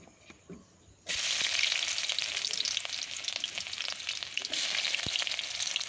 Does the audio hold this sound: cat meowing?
no